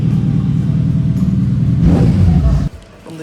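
Kawasaki Ninja ZX-6R with a legal exhaust revs loudly up close, giving a steady, heavy engine rumble that swells briefly and then drops away sharply near the end.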